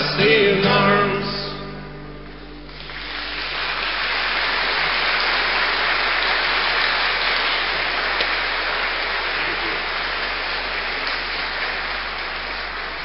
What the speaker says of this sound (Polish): Te oklaski za wszystko dobre, co nas spotyka, należą się człowiekowi na krzyżu.